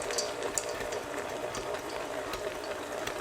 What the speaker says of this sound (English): I'm just going to hook this onto the KitchenAid and start stirring